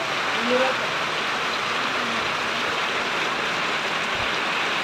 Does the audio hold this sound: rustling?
no